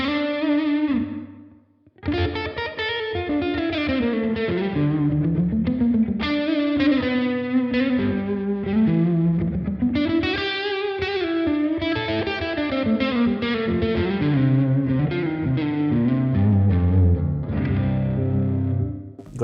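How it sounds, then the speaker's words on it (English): An electric guitar played through a Blackstar St James EL34 amp with plate-style reverb, a melodic overdriven line of sustained, bending notes with a smooth lingering tail, loud and alone after a brief pause near the start. "I really love this reverb because it's not a normal spring reverb inside the normal combo."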